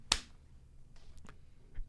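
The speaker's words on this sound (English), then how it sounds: "So we'll do 3, 2, 1, clap." A single sharp hand clap on a podcast set, close and loud, followed by a few faint soft taps.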